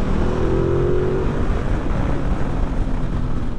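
A Ducati Multistrada 1260 S Grand Tour motorcycle engine revs and pulls on a rough country road, a loud, steady roar mixed with heavy wind rush and a brief rising engine tone early on.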